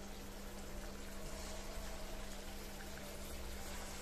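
Four sweets, rasmalai balls made from semolina, fry together in hot oil. A soft, even hiss and bubbling runs quietly and without break throughout.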